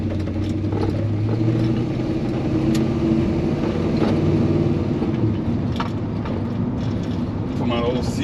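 A Chevy C-10 pickup truck engine runs steadily in the cab on a drive, a loud continuous low rumble with road and mechanical noise, with someone talking over it.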